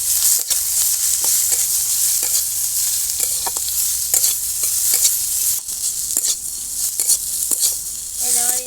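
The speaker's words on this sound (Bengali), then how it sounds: "দেখেন হালকা করে ভেজে নিচ্ছি, বেশি ভাজলি আবার ভালো লাগবে না।" Young jackfruit fries with turmeric in a pan, giving a steady, close sizzle broken by repeated stirring scrapes and knocks, with no talking.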